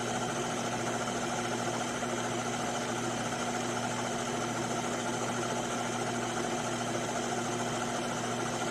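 A diamond drill bit boring a high-speed steel pin out of aluminum gives a steady, continuous mechanical whine with a constant hum and vibration, even and unbroken throughout with no voices.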